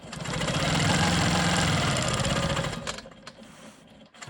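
A sewing machine runs continuously as it quilts around a small triangle on a rolling stone quilt block. The whirring stitching is close and loud, then stops abruptly, leaving faint clicks and handling noises.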